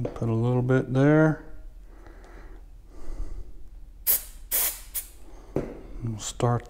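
Short bursts of aerosol glue accelerator spray hiss in quick succession, close by, between brief stretches of a voice talking.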